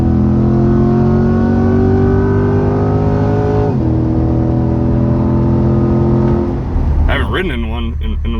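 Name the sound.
2020 C8 Corvette convertible accelerating and shifting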